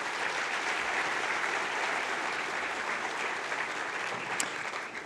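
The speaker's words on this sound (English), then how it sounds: "Can we give our captains a round of applause?" A school audience applauds its student captains, a steady, dense wash of many hands clapping that holds evenly throughout with no talking over it.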